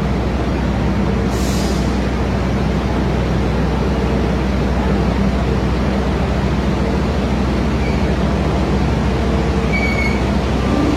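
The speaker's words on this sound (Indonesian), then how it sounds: "Kayaknya kereta yang aku naiki persiapan berangkat ya." Steady low rumble of a stationary passenger train preparing to depart, with a brief hiss near the start and faint squeals later; no voices.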